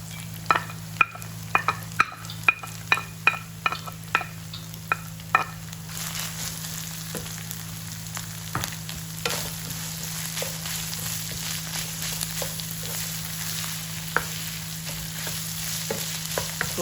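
Carrots and potatoes sauté in a pan with ground pork and long beans, giving a steady sizzle broken by sharp clicks and scrapes of stirring, busiest early on and sparser later.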